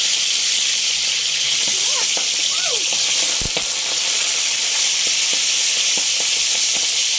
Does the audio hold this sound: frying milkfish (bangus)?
yes